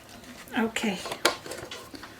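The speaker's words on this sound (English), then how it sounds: "give it a good stir." A spoon stirs butternut squash soup in a pot, giving a few short clinks and scrapes against the pot over about two seconds, close by.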